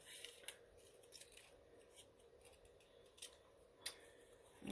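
Scissors cut a piece of paper ephemera in half with a run of faint, crisp snips spread across the moment. The room is quiet, with light handling noise around the cuts.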